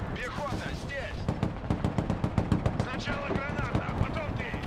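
Rapid machine gun fire in the real-time strategy game Broken Arrow, a steady stream of sharp repeated bursts with a spoken voice running underneath.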